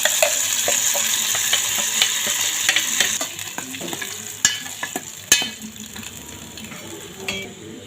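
Steady frying sizzle of a tempering for chutney in hot oil, with a few sharp spoon clinks against the pan partway through; no voices.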